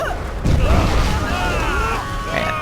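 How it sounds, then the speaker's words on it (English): Cannons firing during a bandit attack in the Jade Empire video game, a low booming blast that swells at half a second and rumbles on beneath game music and clashing effects. "periodically the cannons will fire, hitting where you were standing when they were fired"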